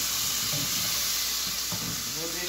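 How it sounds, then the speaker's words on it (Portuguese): Tomato and half a red bell pepper sizzle and hiss steadily as they sauté in a pan with browned garlic and onion, with faint stirring scrapes throughout and no talking. "Vou deixar esse tomate e esse pimentão cozinhar aqui um pouquinho."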